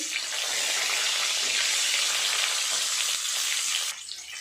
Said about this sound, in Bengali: এই তেলে ডিম আর আলুগুলো ভেজে নেব।